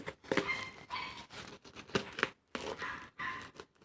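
Cardboard and plastic packaging being torn, cut and crinkled open to unbox a kitchen knife, with close, irregular bursts of rustling and ripping separated by brief pauses.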